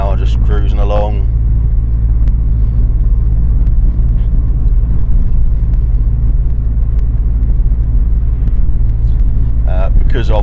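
Turbocharged MK4 Opel Astra cruising at a steady 40 mph, with a loud, constant low engine and road drone. Brief speech is heard at the start and again at the end.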